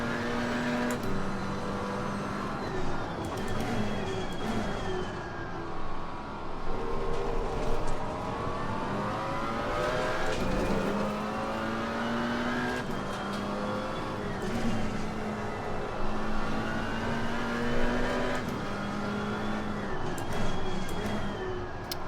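A McLaren 570 GT4 racing car engine in a video game drones and revs continuously around Snetterton, its pitch rising and falling through gear shifts, with a buzzy, synthetic tone throughout.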